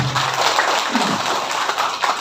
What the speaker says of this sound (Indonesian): Tepuk tangan untuk kita sekalian.